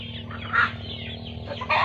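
Native chickens cluck and chatter steadily at close range during feeding, with a few louder, sharper squawks breaking through the busy flock noise.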